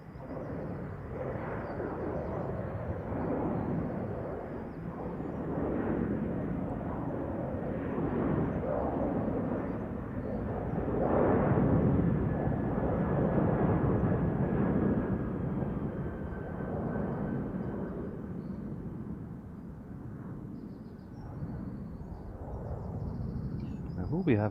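JetBlue jet departing from the centre runway at Amsterdam Schiphol on a windy day, a broad distant engine roar swelling and fading with wind buffeting a nearby microphone.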